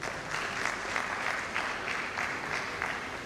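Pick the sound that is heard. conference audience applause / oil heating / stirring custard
conference audience applause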